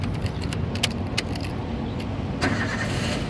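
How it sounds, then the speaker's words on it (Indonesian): A 2012 Toyota Avanza 1.3 E with a manual gearbox has its keys jangling in the ignition before the engine cranks and catches near the end, settling into a steady idle. "Sekarang kita nyalakan mobil."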